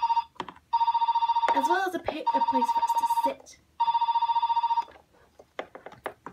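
A Fisher Price Little People house toy telephone rings in loud bursts of electronic trilling, stopping and restarting several times while a person speaks over and between the rings indoors.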